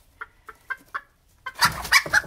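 A rooster gives four short, evenly spaced clucks, then bursts into a louder, rougher run of squawking and fluttering noise close by.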